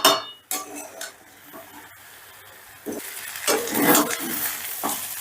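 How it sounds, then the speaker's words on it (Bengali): Rice being stir-fried over medium heat in a pan for potato pulao: a spatula scrapes and stirs in irregular bursts against the metal, with a light sizzle between the louder scraping strokes. "মিডিয়ামে রেখে চালটা দিয়েও আমি বেশ ভালো করে কষে নেব"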